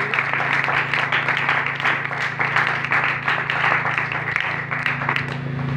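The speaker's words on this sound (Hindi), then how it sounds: "यीशु के लिए एक बार जोरदार ताली।" A congregation claps steadily throughout a Hindi-language Christian church service, a continuous, fairly loud wash of hand claps over a low sustained hum.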